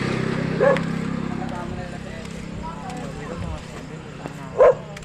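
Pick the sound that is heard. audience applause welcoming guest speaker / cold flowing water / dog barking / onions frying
dog barking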